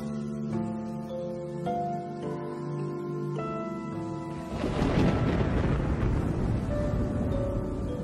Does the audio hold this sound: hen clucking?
no